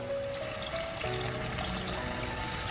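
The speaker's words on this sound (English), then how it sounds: "Now I'm adding water." Water is poured into mutton curry gravy in a pressure cooker, a steady close trickle and splash lasting a few seconds with no talk.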